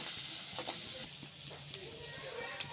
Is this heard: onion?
yes